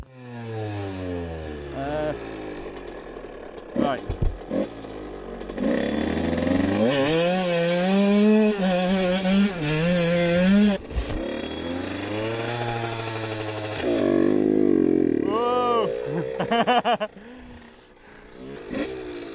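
A CBR DRZ 600 hybrid motorcycle engine is revved during testing. Its rough, loud note climbs and falls repeatedly through sustained throttle blips, close to the listener with no voices over it.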